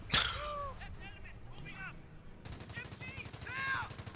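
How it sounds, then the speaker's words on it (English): Machine gun fire in the World War II strategy game Company of Heroes: rapid, steady bursts of rattling shots break out partway through, amid other battle sounds. Voices speak over the gunfire. "That's an MG. You will be pinned down."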